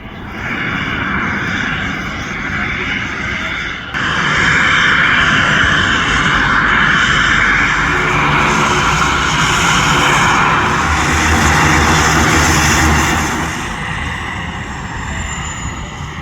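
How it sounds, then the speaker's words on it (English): Float plane engines drone in a sustained broad hum at a harbour dock, swelling louder after a few seconds and holding steady before easing off as the planes land and taxi in. "Just to watch a couple of float planes land and taxi up to the dock."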